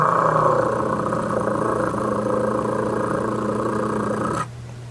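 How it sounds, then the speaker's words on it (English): Loud pickup truck engine without a big muffler, rumbling close by with a throaty idle growl that holds steady for about four seconds and then cuts off abruptly near the end. "That truck sounds mean because it is mean. It doesn't have a big muffler."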